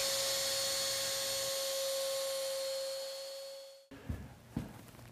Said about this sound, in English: Turn on the router and slide the router over the edging to cut it flush.